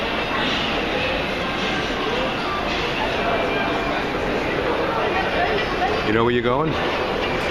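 Metro train ride on a subway likened to New York's, a loud steady rumble and rattle of the moving car throughout, with a brief squeal near the end and a voice speaking over it.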